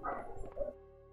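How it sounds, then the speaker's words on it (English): A dog in the game Resident Evil 2 lets out a brief bark and whimpering yip, a short quiet burst over a low hum. "And with my dogs growling out there"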